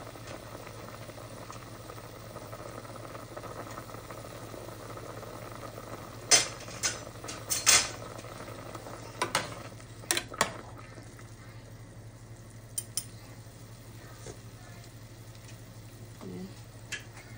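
Low bubbling and simmering of pork adobo in a pan, steady and fairly soft, with a few sharper clinks and stirring knocks along the way.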